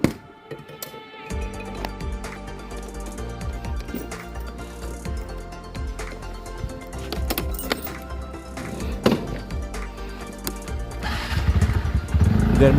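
A scooter ride, with a steady engine drone and road rumble throughout, occasional metallic clinks, and a rise in engine and wind noise near the end.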